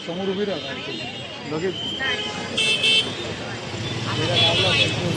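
Busy Mumbai street traffic with motor hum and a few car horn toots, heard under a person talking nearby.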